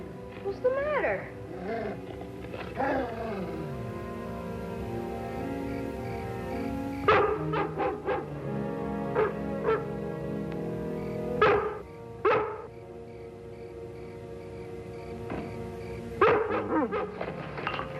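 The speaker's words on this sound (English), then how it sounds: "Lassie started barking" A collie barks in sharp, spaced bursts, loud and close, with whimpering tones between barks, mixed with dramatic background music.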